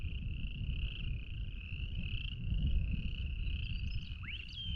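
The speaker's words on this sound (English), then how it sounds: "Love the frogs." Frogs croak steadily outdoors after rain near a homestead, a dense overlapping chorus of buzzing calls carrying at moderate distance over a low rumble of background noise.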